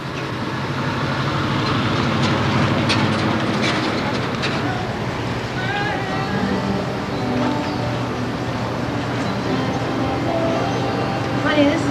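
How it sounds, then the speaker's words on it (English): Train arriving at a Van Buren, Arkansas station, a steady close rumble with rolling wheel clatter and faint squeals filling the whole stretch, loud and continuous with no pause. "We can hear when the train comes, can't we?"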